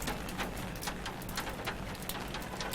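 Heavy rain pours steadily around Meenambakkam and Pallavaram near Chennai airport, a dense continuous hiss with scattered louder drops and splashes, loud and close with no voices.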